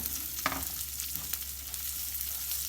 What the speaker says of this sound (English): or fry my rice until it's golden brown